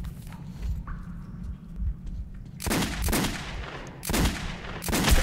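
Revolver gunshots in Metro 2033, three loud sharp blasts spaced about a second apart in the second half, each with a short decaying tail over a low rumbling background.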